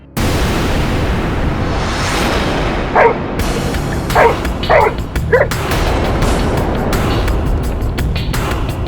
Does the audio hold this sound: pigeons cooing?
no